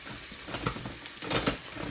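Onions are tossed around in fat in a pot with a spatula for chicken Marsala, giving a soft, uneven sizzle with brief scraping and shuffling bursts up close.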